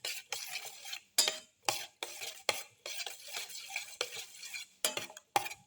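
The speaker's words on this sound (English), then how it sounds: "Mix in the shallots with the rest of the mixture." Shallots being stirred into a raw egg omelette mixture in a bowl, a utensil scraping and clicking against the sides in quick, close bursts with short pauses between strokes.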